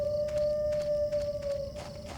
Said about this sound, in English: And I think I heard a wolf howling.